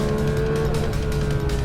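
A Porsche 911 GT3 RS engine roars steadily at high revs through a fast sweeping bend at about 104 mph, a loud, sustained tonal drone heard from inside the car with no talking.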